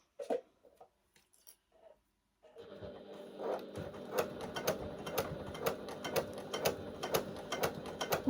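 A sewing machine stitching a zipper onto a bag, starting after a few sparse handling clicks and then running as a steady, rhythmic mechanical chatter of needle strokes, fairly faint and close, with no talk.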